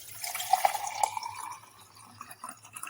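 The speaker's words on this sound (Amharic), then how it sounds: "ከዛን ውሃ እንጨምርበታለን ማለት ነው።" Water poured into a pot holding washed lemon and cloves, a close, bright splashing and trickling with a few clear drips near the start that thins to a softer flow.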